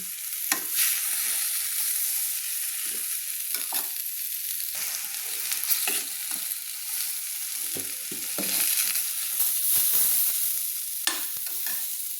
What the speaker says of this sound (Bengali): একটু লাল লাল করে ভেজে নিচ্ছি হালকা লাল লাল করে ভেজে নিচ্ছি